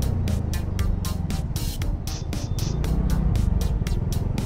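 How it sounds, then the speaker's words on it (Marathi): A motorcycle rides through heavy road traffic as rain begins to fall. Its engine throbs in a fast, regular pulse, each beat carrying a burst of rushing noise, and the sound stays loud and close throughout. "इथं ट्रॅफिक आहे आणि पाऊस पण चालू झालाय"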